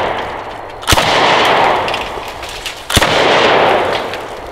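Two loud, sharp blasts from a DDI LA-K12 Puma bullpup shotgun fired outdoors at paint cans and cinder blocks, about two seconds apart, each followed by a long rolling echo.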